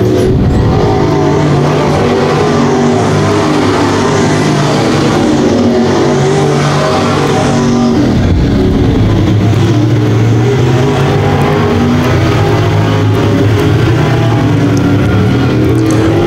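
Canadian Modified race cars lap Brighton Speedway with a loud, continuous engine roar. The pitch rises and falls as the pack sweeps past, with a brief dip midway as the cars go by.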